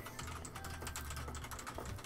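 Rapid typing on a computer keyboard during a UK vaping talk show, a steady patter of soft key clicks running through the whole stretch over a low background hum.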